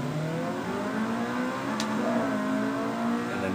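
A Mugen Civic race car slows for a corner at the Catalunya circuit, its engine droning steadily with a smooth, shifting pitch as it brakes, loud and continuous throughout.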